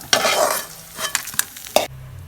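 Lentils sauté in oil in a pan for ridge gourd peel chutney, a close hissing sizzle with several sharp spatula scrapes and taps, ending on a low steady hum.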